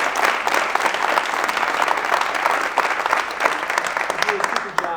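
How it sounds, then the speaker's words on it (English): A crowd of school family-weekend attendees applauds, dense sustained clapping filling the room at a steady loudness for several seconds without talk. "Round of applause."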